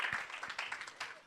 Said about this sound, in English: Give David a round of applause for bringing all this together